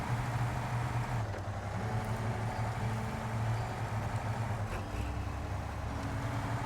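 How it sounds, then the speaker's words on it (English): An all-wheel-drive truck engine hums steadily, a continuous low rumble with an even drone and some broadband road or cabin noise, no voices. "I like the sound of the engine, too. It's got this, like, weird hum to it"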